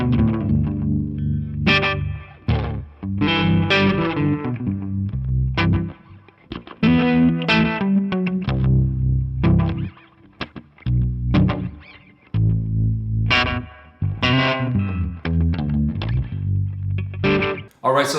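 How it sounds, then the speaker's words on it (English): Baritone guitar played through harmonic tremolo and delay pedals with a mid-to-high gain overdrive, ringing chords and single notes in phrases with pulsing, echoing sustain, loud and close with brief pauses. "So now I've turned the harmonic tremolo on my Hydra, and I have my delay on my Halo,"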